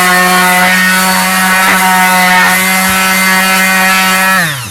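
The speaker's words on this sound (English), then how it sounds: "on top you can use your sander" Electric sander grinding rust off the body of a BMW E34 520i, a loud steady whine with strong harmonic tones running continuously before winding down at the end.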